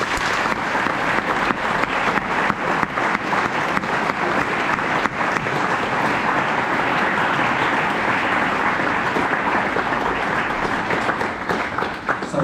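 Sustained applause fills a school assembly as students and staff welcome guests from World Vision, sponsors of a morning Runathon; dense, steady clapping from a large crowd, loud and continuous throughout with no break.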